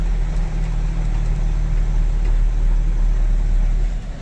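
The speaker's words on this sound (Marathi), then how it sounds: "आणि गाडीला जरा चढ लागला आता गाडी लागल्या" A loaded mango transport truck on the Vengurla to Rajkot route labours uphill, its engine a steady, heavy low drone that stays close and unbroken throughout.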